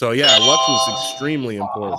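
A phone plays an inDrive ride-request notification, a short chiming, ding-like alert heard beneath a person talking.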